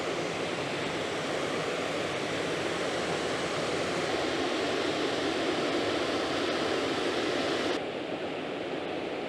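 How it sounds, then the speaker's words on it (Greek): A river with small waterfalls in a Slovenian village near Novo Mesto rushes in a dense, continuous hiss of flowing water, near and steady, with a slight change in tone near the end. "Και εδώ έχει ένα ποτάμι η περιοχή και έχει καταράκτες κιόλας."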